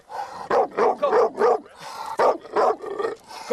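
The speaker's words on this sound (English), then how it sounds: "you want to hold that dog, please, sir?" A dog barks in a rapid series of sharp, close, loud barks, around eight in quick succession with a short pause midway, with no talking over them.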